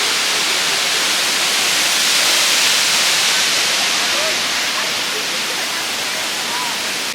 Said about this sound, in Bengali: আমার ওপরে শুধু ঝর্ণা আছে।